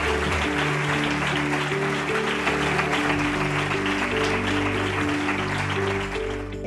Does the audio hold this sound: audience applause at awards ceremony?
yes